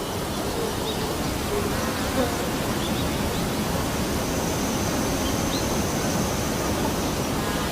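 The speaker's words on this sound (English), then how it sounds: "honeybees use the sound of their wings to communicate." Honeybees crowd an artificial feeder, their wings making a dense, continuous buzzing drone that stays loud and even throughout.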